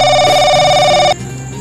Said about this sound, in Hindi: मामा का फोन।